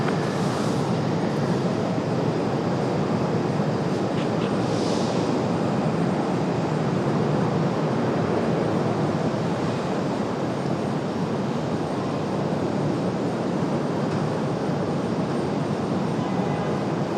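Southwest Airlines jet rolling for takeoff on runway 23 left at Raleigh-Durham International, a steady loud broadband engine roar that holds unbroken throughout with no voices.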